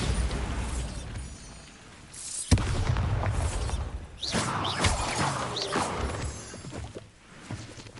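Bombarda blasting spell in Hogwarts Legacy, a sudden sharp explosive crash at about two and a half seconds followed by rumbling debris and further bursts, fairly loud amid game ambience.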